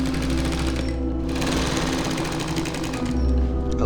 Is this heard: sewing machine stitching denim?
yes